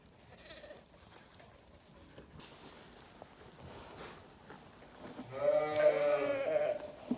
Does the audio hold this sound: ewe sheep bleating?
yes